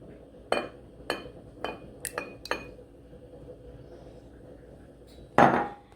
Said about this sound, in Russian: Теперь мы добавляем 3 яйца.